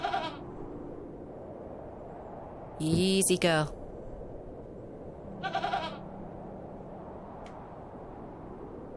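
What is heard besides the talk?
goat bleating in the video game The Excavation of Hob's Barrow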